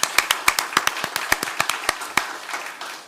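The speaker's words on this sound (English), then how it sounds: "if we could at this time just give applause for our former president, Scott Bierman" A small group claps for a former college president at a Beloit city council meeting, sparse individual claps in an uneven rhythm, close and moderately loud, thinning out toward the end.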